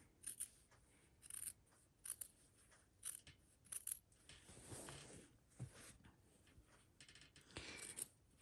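Scissors snip through bias binding fabric for an 18th-century pocket, sounding as a quiet series of short, crisp cuts at a fairly steady rhythm, close by and with no talking.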